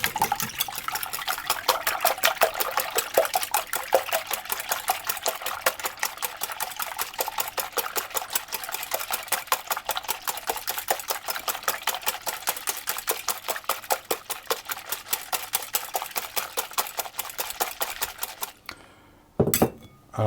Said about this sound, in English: And then I'm going to whisk those together.